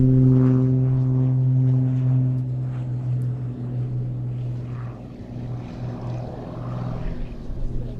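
Propeller display aircraft of the Global Stars team take off from a grass airfield at Little Gransden Air Show, a loud droning engine tone that fades as it departs, with faint distant voices.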